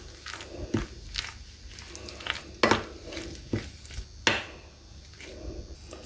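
Spices and salt being mixed in a bowl for tandoori chicken tikka, heard as sparse, sharp clinks and taps of a utensil against the container over quiet background.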